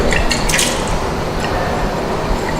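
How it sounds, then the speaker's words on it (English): Distilled water runs and splashes steadily into laboratory glassware being rinsed for a hardness titration, a close, loud, continuous gurgling wash with a few brighter drips and sloshes, no voices. "So rinse it thoroughly with the distilled water"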